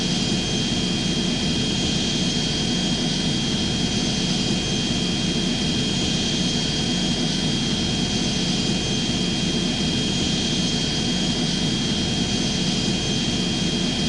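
Jet engine roar of an airliner in the Airplane Flight Simulator Evo game on PS5 Pro, a loud and constant whine over a broad rushing drone, unchanging throughout, with no talk.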